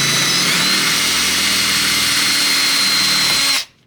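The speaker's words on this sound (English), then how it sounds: "Get the drill speed going good first, and start your drilling process." A power drill runs steadily at high speed, drilling out rivets on the front splitter of a C7 Corvette Grand Sport; a loud, continuous whine holds for about three and a half seconds, then cuts off abruptly.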